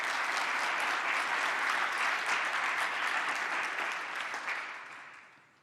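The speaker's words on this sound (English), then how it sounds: "Perhaps we should give them a round of applause." An audience at a fashion-industry design conference gives the organisers a round of applause, a dense sustained clapping that holds strong for several seconds and then fades out.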